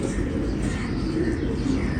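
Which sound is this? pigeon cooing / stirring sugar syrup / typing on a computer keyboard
pigeon cooing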